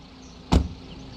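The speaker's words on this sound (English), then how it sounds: "and then I will open the hood." In the BeamNG video game, the hood of a 2015-2023 Skoda Kodiaq opens with a single short latch-and-thump clunk, close and brief against a quiet background.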